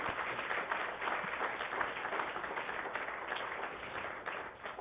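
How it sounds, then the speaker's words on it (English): An audience claps at a board meeting, a steady spread of applause lasting several seconds, heard faintly through a muffled, narrow recording. "Give him a big round of applause, please."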